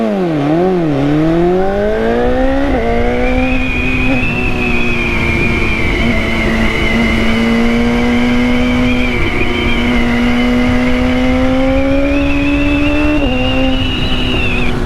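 A BMW S1000R Pro motorcycle's inline-four engine revs loudly and continuously, pitch climbing and settling through gear changes with no talking.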